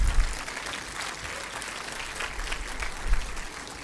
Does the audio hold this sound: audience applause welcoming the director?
yes